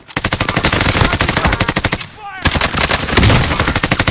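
Rapid automatic gunfire in Call of Duty Warzone, loud and close, in dense sustained bursts with a short pause before the shooting resumes.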